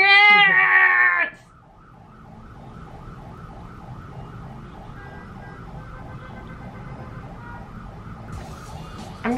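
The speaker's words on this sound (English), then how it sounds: "siren!" A wailing emergency siren cycles steadily in the distance on a Manila street for several seconds, following a brief burst of loud voices at the start.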